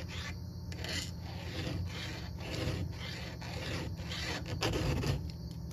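Steady rasping strokes of a hand file sharpening a chainsaw chain, a few firm passes followed by lighter ones, close up and continuous with a low background hum.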